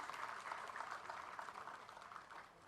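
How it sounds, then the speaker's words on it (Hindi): Audience applause at a Lions Club Dehradun stage event launching a health campaign: a dense, steady wash of clapping that thins slightly toward the end. "जोरदार तालियां।"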